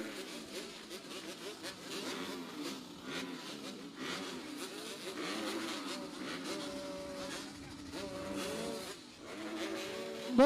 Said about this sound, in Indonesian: Mesin sudah mulai meraung